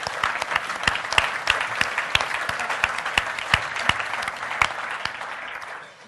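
An audience at a hypnotic storytelling seminar claps loudly and continuously for about six seconds, a dense spread of individual sharp claps that fades slightly at the end.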